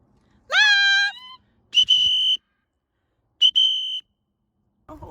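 A baby bird high up in a tall tree gives three loud, shrill, whistle-like screams with pauses between them, each call clear and alone against near silence.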